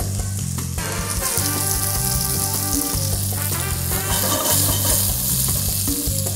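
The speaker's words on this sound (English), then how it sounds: "put them in a sauté pan, hot sauté pan with a little bit of olive oil and some salt" Asparagus sizzles and fries steadily in a hot sauté pan with olive oil and salt, a dense, continuous crackle with occasional clinks of stirring, close and loud throughout with no talking.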